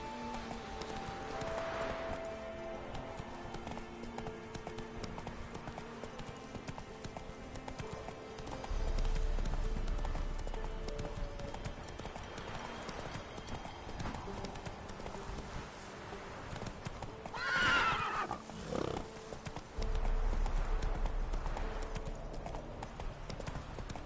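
Roach, a horse in The Witcher 3, gallops with steady clip-clop hoofbeats over a continuous game music bed, with louder swells and brief effects around the middle.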